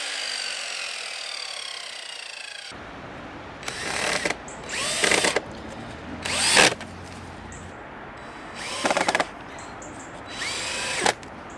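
A cordless power drill drives Phillips screws into a cabin front panel in five short whirring bursts, each rising in pitch and then stopping, separated by quieter pauses.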